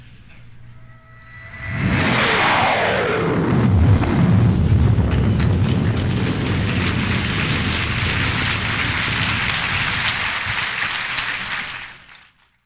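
A voice imitates a low-flying jet plane, a roaring whoosh that swells quickly and holds as a loud, sustained rushing drone before cutting off.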